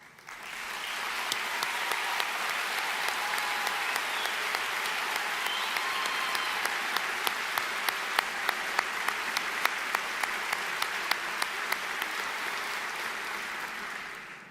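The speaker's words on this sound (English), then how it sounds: "I would ask for those individuals to please stand and applaud, and we would applaud you" A high school commencement crowd applauds graduates heading into missionary work, a long, sustained roar of many hands clapping, with a few sharper individual claps standing out.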